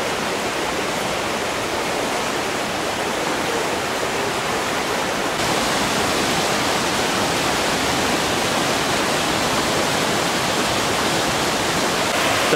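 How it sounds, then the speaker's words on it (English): Loud, constant rush of water pouring out of the mouth of Squire Boone Caverns nearby, a dense roar that never lets up. "So this is where the water exits the cave."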